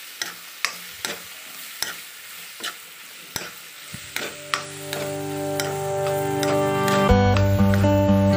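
Maggi instant noodles being stirred with Maggi masala in a pan, with a series of clear scraping clicks of the spoon against the pan over a steady cooking hiss, ending in a louder, fuller sizzle.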